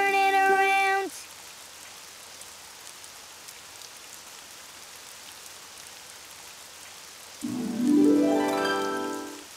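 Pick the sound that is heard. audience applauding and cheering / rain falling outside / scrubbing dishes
rain falling outside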